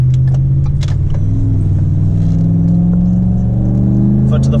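A car with a newly installed cold air intake accelerates hard from inside the cabin, its loud engine drone rising steadily in pitch while a voice talks over it.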